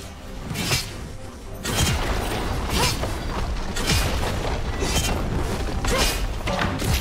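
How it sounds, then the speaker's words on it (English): A turret collapses in League of Legends: a dense, sustained rumble of crumbling debris and heavy thuds, with repeated crashing impacts and whooshes layered over a constant roar. "Blue team's turret has been destroyed."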